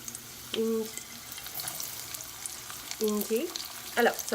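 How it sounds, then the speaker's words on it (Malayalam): Soft, steady sizzle of onions frying in oil over a medium flame, close by, with brief clinks and faint sounds of stirring now and then. "മീഡിയം ഫ്ലെയിമിൽ ആദ്യം തന്നെ ഉള്ളി ഇടുകയാണ്"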